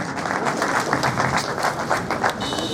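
Audience applause at the inauguration of a Jagran Radio City FM station, a steady dense wash of clapping from a crowd filling the room, fairly loud and continuous throughout.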